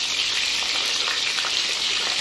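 Food fries in a pan over low heat, giving a steady, even hiss and crackle that stays close and constant throughout. No one speaks over it.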